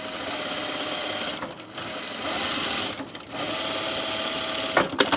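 Sewing machine stay stitching a shirt, running loud and steady in three long close bursts separated by brief pauses, with a small clatter at the end.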